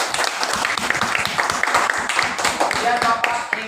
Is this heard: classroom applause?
yes